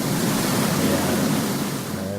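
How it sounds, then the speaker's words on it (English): A loud waterfall by a river in the video game Graveyard Keeper, a dense, steady rushing roar of falling water that fades slightly toward the end, with a voice faintly present. "That waterfall's pretty loud."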